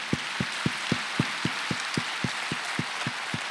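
Rhythmic hand clapping at a steady beat, about thirteen sharp even claps, from a church congregation at a Wednesday worship service, with no talking over it.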